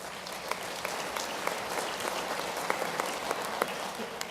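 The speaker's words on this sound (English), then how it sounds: "please give a nice round of applause for Christina Goodvoice" Audience applause at a Muscogee Nation council quarterly session, a steady wash of scattered claps throughout, fairly distant and moderately soft, with no talk over it.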